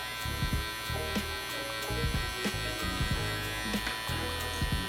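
An electric hair clipper buzzes steadily while cutting hair during a taper fade, a close, continuous hum with small rhythmic changes as the blade moves, with no voices.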